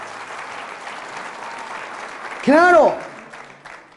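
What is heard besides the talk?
congregation applauding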